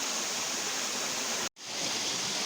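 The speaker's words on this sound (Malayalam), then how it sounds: "അകമല വാട്ടർഫോൾസ്." The seasonal monsoon Akamala waterfall roars as a dense, steady rush of falling water close by, broken by one brief cut of silence midway before the roar resumes.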